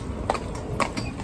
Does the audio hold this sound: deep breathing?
no